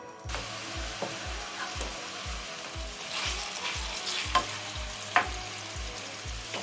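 Meatballs fry in a pan with oil and garlic, a constant soft sizzle with occasional sharper pops, over a faint regular low thumping in the background, with no talking.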